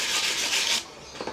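Brisk rasping strokes of sandpaper rubbing against a surface, close and fairly loud, fading to lighter scrapes at the end.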